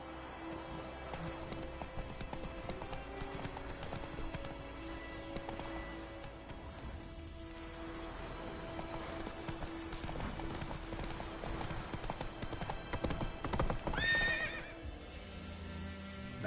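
Roach the horse gallops in The Witcher 3, with steady clip-clop hoofbeats running throughout and a sharp whinny near the end, set against game ambience.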